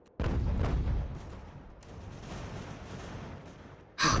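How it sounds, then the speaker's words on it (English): An artillery battery fires cannons in the video game Ultimate General: American Revolution. One heavy boom lands at the start and rolls on as a rumbling tail, and another sharp blast begins right at the end. "that's an artillery battery out there. It's getting some good shots"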